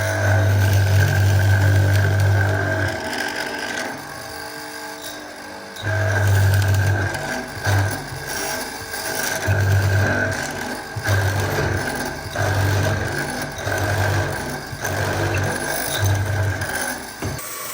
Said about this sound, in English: just running the tenon past the bandsaw to get an even 90mm that I set them out to